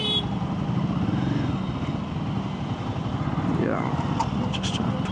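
A motorcycle engine lugging at low RPM in second gear while riding on the road, a steady low rumble throughout, mixed with constant wind buffeting on the microphone.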